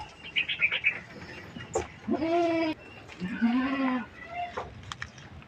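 Goats bleat several times in drawn-out, wavering calls, close by, while competing for mangoes, with soft rustling and a few brief sharper noises between them.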